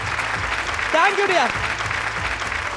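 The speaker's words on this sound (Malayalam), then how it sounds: "അപ്പൊ ഒരു നല്ലൊരു കയ്യടി പ്ലീസ്." Audience applause on a TV game show, a dense, steady clapping from a crowd that carries throughout, with a voice speaking briefly over it in the middle.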